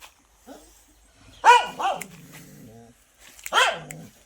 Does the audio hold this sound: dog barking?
yes